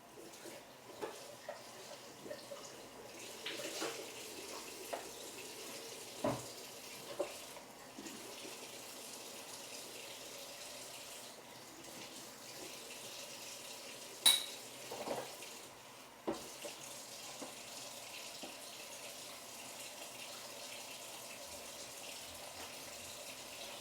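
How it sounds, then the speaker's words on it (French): Small dishes and lids are washed under a running kitchen tap, a quiet steady water hiss with occasional soft clinks of crockery and cutlery, no talk. "donc là je vais laver la petite vaisselle que j'ai là"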